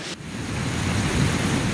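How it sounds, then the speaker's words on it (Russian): A clear mountain stream flows steadily nearby in a scenic outdoor spot, giving a continuous rushing, broadband wash with no talk. "Ох, как течет ручей."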